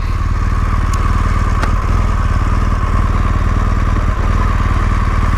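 A 2017 BMW R1200GS Rallye motorcycle engine runs steadily up close, a loud continuous boxer-twin drone with a few faint clicks and no speech.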